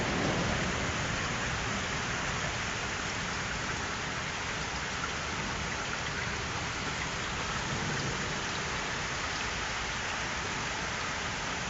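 Steady rain falls after a thunderstorm, a dense, continuous hiss of drops on surfaces holding an even level for the whole stretch, with no thunder or voices breaking through.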